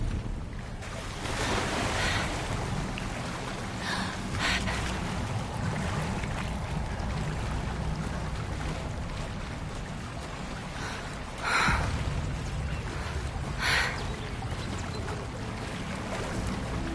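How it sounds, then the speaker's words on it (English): Bubbling water in the video game Hogwarts Legacy: a steady watery churn with occasional brighter splashes and gurgles, heard alone and fairly quiet. "Look, where the water's bubbling. How odd."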